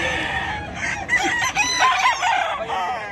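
Chickens and roosters at the Bocaue pet market in Bulacan crow and cluck over one another, loud and close, with overlapping calls and busy market background noise.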